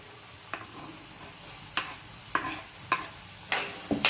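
Onion and green chili fry in a pan with a soft, steady sizzle, punctuated every half second or so by sharp scraping clicks of a spoon stirring against the metal.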